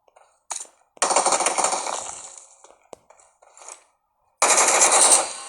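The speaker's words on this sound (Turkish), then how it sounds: "Nereden sıktı lan o adam?" Gunfire in a video game: a couple of quick single shots, then loud sustained bursts of automatic fire, a pause with scattered shots, and another heavy burst at the end, with no talking.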